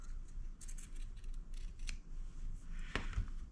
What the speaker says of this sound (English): we want to trim our corners a little more because when we rounded them